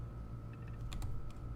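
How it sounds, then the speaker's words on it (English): Quiet keystrokes on a computer keyboard, a few soft scattered clicks in a short irregular run over a low steady background hum. "My typing is abysmal."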